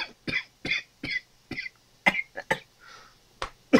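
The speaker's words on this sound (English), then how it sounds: "Ignore that coughing fit just now." A short coughing fit: a run of sharp, harsh coughs in uneven bursts, close and fairly loud, with brief pauses between them.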